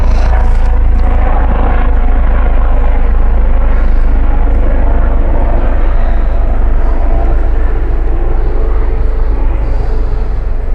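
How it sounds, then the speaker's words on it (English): An aircraft engine drones overhead, loud and steady with a deep rumble throughout and no break, no speech heard. "can't do anything without this helicopter."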